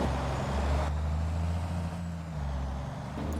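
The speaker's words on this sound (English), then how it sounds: "this old Volvo gets up and goes when it wants to" An old Volvo truck on a farm pulls away with a steady low engine drone and a brief air-brake hiss, loud and close, with no talk.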